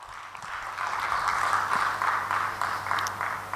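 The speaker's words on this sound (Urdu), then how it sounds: "تو لاہور کے لیے ایک بھرپور تالیاں پہلے بجا لیجئے۔" An audience at a literary gathering in Lahore claps together in a steady burst that builds quickly and holds for a few seconds before thinning out. No voices are heard.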